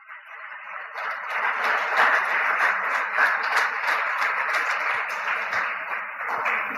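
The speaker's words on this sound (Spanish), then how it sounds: "Dale fuertísimo, fuertísimo el aplauso al Señor." A church congregation applauding the Lord: a dense, steady wash of many hands clapping together, sustained and fairly loud throughout, with no speech.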